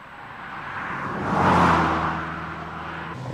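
An MG Montego Turbo 2.0 car climbs a hill in fifth gear, its engine a steady mid-range hum that swells and fades smoothly as it passes near, with no voices.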